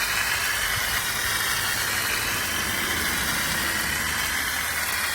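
Water sprays steadily onto a 2010 RT wheel during a rinse, a continuous loud broadband hiss that stays close and even throughout with no pauses or talk.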